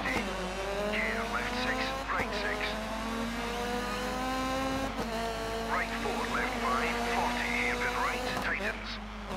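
A Fiat Grande Punto S2000 rally car in Dirt 3 revs hard on the Monaco head-to-head track, its engine note climbing and dropping through gear shifts with tire squeal and skids, loud and continuous.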